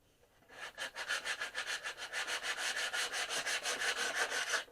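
Hand sanding strips shiny varnish from a wooden surface in quick, even back-and-forth strokes, a close, rhythmic rasping scrub repeating about five times a second after a brief quiet start, with no talking.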